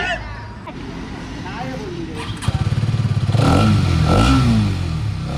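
A new motorcycle's engine idles and then revs up as it pulls away, the pulsing exhaust rising louder near the end, with people talking in the background.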